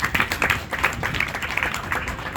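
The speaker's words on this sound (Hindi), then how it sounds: "मैं चाहूँगा आप सभी उनका तालियों से स्वागत करेंगे।" An audience claps in a dense, steady patter to welcome a child protection officer at a gathering.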